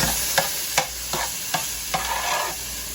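Lean ground turkey and onion sauté in a pan, a constant hiss of frying broken by about six evenly spaced stirring scrapes, close and fairly loud.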